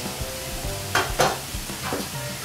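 Mushroom pieces for fajitas sizzle in a hot pan under a steady frying hiss. A few sharp scraping stirs from a utensil break through the sizzle.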